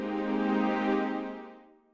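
A synth string pad from the KGSP Strings 2 preset sounds as a single sustained chord that swells, holds, then fades away over about two seconds, alone with no voice.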